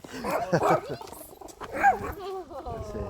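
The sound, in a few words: dog barking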